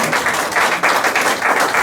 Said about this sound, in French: Donnons l'acclamation au Seigneur.